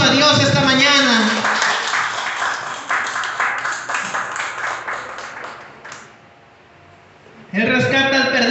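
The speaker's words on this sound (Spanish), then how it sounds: "Dale un fuerte aplauso a Dios esta mañana." A church congregation claps for God during a Spanish-language service, a few seconds of dense rhythmic applause that fades out between stretches of a preacher's voice.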